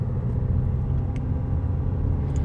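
Steady low diesel drone from a Renault Talisman 1.6 dCi 160 hp with EDC gearbox, heard from inside the cabin while driving, a constant rumble with no voices.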